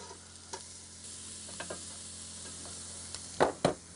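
Rissoles sizzle on a barbecue grill at a camp in the Brindabella Ranges, a steady soft frying hiss punctuated by a few sharp clicks and scrapes of a utensil near the end.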